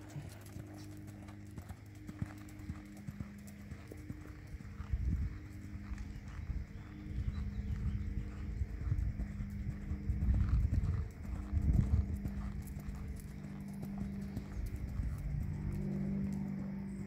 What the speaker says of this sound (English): See if you can canter her one more lap.